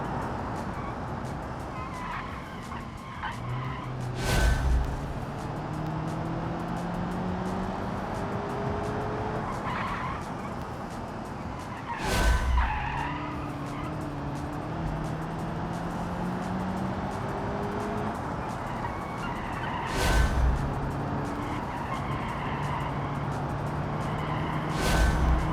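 Car tires scrub and squeal through a corner in the BeamNG driving game, an engine droning throughout with rising gear pulls, and sharp loud bursts recurring several times over the run.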